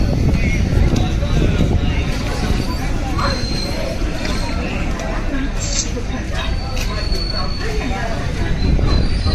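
The Amrit Bharat Express rumbles loudly into Jolarpettai Junction with continuous heavy rolling noise and faint wheel squeals, while people talk over it.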